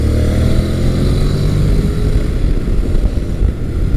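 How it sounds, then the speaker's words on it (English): A midsize adventure motorcycle engine, a Honda NC700X or Kawasaki Versys 650, revs hard in a loud, steady, close drone with a rough low rumble throughout. "just as soon as the engine's going to get good, feels like it's going to come on power, it runs out of revs"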